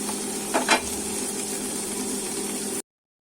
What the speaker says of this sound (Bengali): ক্যাপসিকাম আর বেল পেপারটাকে দিয়ে আমরা একটু ঢাকা দিয়ে হালকা করে ভেজে নেব।